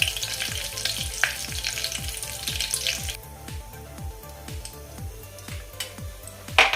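Asafoetida with curry leaves frying in oil over a low flame, a crackling sizzle that softens partway through, under repeated descending musical tones and occasional light clinks of a utensil.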